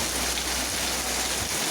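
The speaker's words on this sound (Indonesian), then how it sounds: "hari ini hujan deras" Heavy rain pouring steadily over a roadside stall, a dense, continuous wash of hiss with no gaps and no voices, fairly loud throughout.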